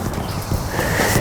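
A 13-year-old Grand Prix dressage horse shifts and steps close by, with soft hoof clip-clops over a steady rustling background during a saddle fitting.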